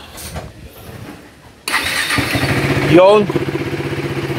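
A KTM Duke 390 motorcycle engine cranks and fires up, then settles into a loud, steady idle. A short throttle blip comes partway through. The source is close, and a voice speaks briefly before it starts.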